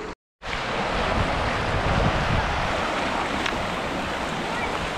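Steady, loud rushing wind roars through a mountain gorge in the Russian mountains without a break after a brief dropout at the start, with no voices.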